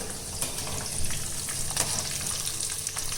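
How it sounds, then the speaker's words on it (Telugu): Tempering spices crackle and sizzle in hot oil as they turn red, a steady, dense frying hiss with small popping bursts throughout. "పోపు ఇలా ఎర్రగా వేగాలండి"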